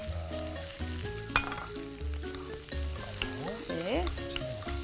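Beef, onion and enoki mushrooms fry together in a pan, giving a steady, close sizzle that runs the whole time beneath pitched, music-like tones.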